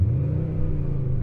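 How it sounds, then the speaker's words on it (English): Skoda engine revving with synthetic exhaust sound played through an in-car speaker, heard from inside the cabin as a deep, droning low rumble that holds steady. "Give it a few revs."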